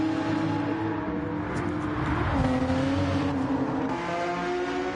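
Race cars lapping at an ASR World Series round, a steady engine drone with harmonic whine that rises and shifts as a car passes around the midpoint, with continuous track noise throughout.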